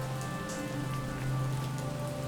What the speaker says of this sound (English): The rain effects are really good.